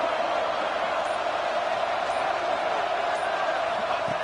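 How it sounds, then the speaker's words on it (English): Stadium crowd at a college football game roaring steadily as the defense faces a red zone stand, a dense, sustained wall of noise with no letup over a few seconds. "here comes the noise. This crowd is trying to inspire this defense to make a big red zone stop."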